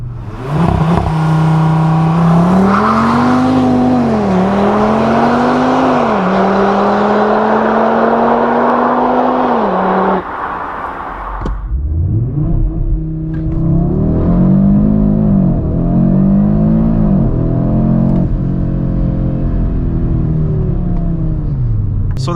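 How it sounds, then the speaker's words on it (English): A 2022 Audi RS3 launching hard with launch control, the engine roaring loud and close as revs climb through several upshifts, a short dip, then renewed strong acceleration through further gears, with no talking. "I think it's pretty easy to launch an Audi with launch control."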